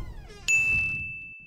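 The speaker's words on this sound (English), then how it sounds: "let's just go ring the bell." A bell rings out in the horror video game Suite 776: one bright metallic ding that lingers as a steady ringing tone over a low background rumble before slowly fading.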